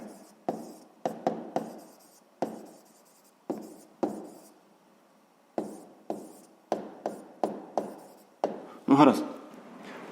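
A pen scratches out a math calculation by hand on paper in short, sharp strokes separated by brief pauses, close up and fairly quiet.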